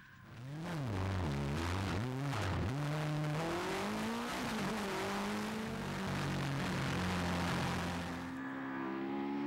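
A Mitjet race car powered by a Yamaha 1300 motorcycle engine, loud and close, revving hard with rising and falling engine pitch through gear changes, tire noise underneath, steady throughout with no voices.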